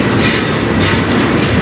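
A CN double-stack freight train passes at night, a loud, continuous rumble and rattle of railcars with rhythmic wheel clatter, close to the listener.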